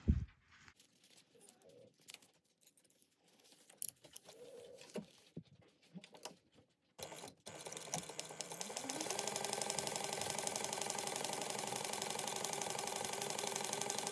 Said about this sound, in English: you're going to sew that at 3/8 of an inch seam allowance.